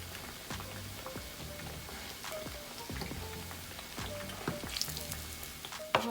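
Quiet, steady sizzling of duck legs frying in a pan, with soft crackles and occasional pops, no talking.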